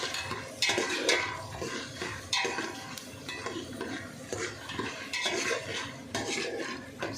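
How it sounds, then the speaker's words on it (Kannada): A spoon stirs urad dal and chana dal frying in oil in a pan, making soft, repeated scraping and clinking strokes over a faint sizzle, close and fairly quiet. "1 ಸ್ಪೂನ್ ಉದ್ದಿನಬೇಳೆ, 1 ಸ್ಪೂನ್ ಕಡಲೆಬೇಳೆ ಚೆನ್ನಾಗಿ ಮಿಕ್ಸ್ ಮಾಡಿಕೊಂಡು"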